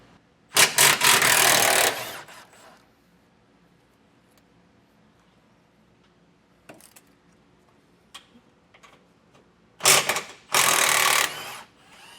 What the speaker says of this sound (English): Now I'm just going to take my 15mm socket and get that removed.